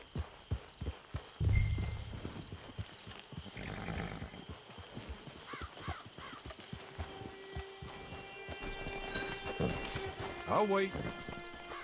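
Horse hooves clip-clopping at a walk in Red Dead Redemption 2, a steady rhythmic plod with a brief whinny, under intermittent character dialogue and soft ambient music.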